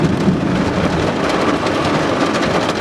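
A thunderstorm brings continuous heavy rain and a deep rolling rumble of thunder, a dense, loud, steady wash of sound throughout with nobody talking.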